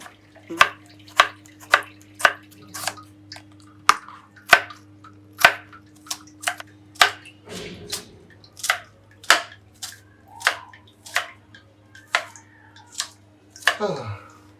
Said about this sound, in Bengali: উপাদানগুলো কাটাকাটি করব